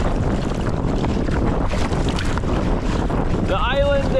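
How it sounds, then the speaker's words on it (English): Steady roaring wind buffets the microphone while choppy water splashes against a boat on Loch Tummel, loud and continuous, with a brief voice near the end. "Almost immediately bashed by that water and a wall of wind."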